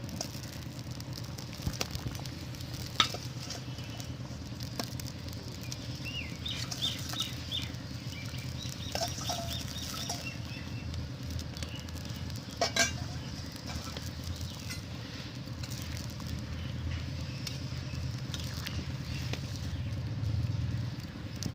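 Fried boal fish slide into a simmering curry broth, giving a soft, steady bubbling and low sizzle with occasional clinks and light taps of utensils against the pot, moderately quiet and continuous.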